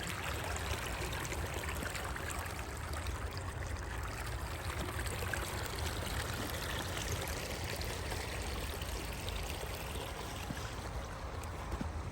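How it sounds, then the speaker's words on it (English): Spring water trickles and runs down a slope across a field, a constant close rushing wash that holds steady throughout with no voices. "Here's the spring that kind of comes down from up there."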